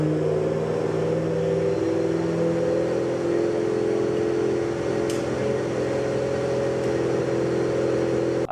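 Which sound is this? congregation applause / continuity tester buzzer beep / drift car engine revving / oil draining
drift car engine revving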